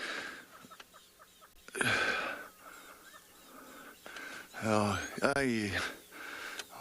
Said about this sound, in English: You can hear the birds as well, alarm calling